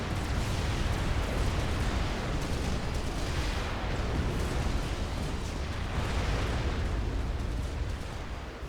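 Lobo artillery fire in a Supreme Commander battle churns as a constant, dense barrage of overlapping booms and blasts, loud and unbroken throughout with no quiet gaps.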